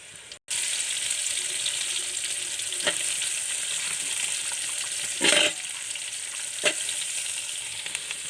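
Chopped onions added to hot oil with green chilies for a Kerala-style country chicken curry give a steady, loud sizzle and fry throughout, broken by a few brief stirring scrapes.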